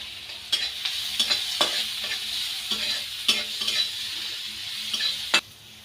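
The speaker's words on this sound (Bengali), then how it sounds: "লাল লাল করে মরিচ পেস্টটা ভেজে নিলাম।" Red chili paste frying in a pan with turmeric and salt, giving a bright, steady sizzle broken by several sharp scrapes and taps of a spoon against the pan, close up with no voices.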